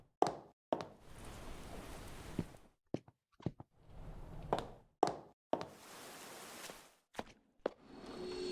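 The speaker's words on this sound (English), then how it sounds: "Someone's knocking on the door." Knocking on a door in a murder-mystery video game: several separate bursts of sharp knocks, fairly loud and close, set apart by short pauses, with a low ambient hum filling the gaps.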